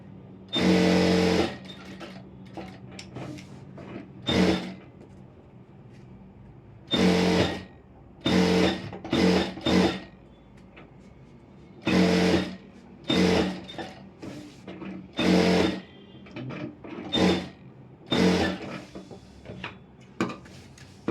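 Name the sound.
sewing machine stitching around an Aari work blouse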